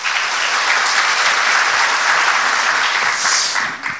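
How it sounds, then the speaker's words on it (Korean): An audience at a public constitutional debate forum bursts into dense, loud, sustained applause that fills the room and fades slightly at the end. "박수 부탁드립니다."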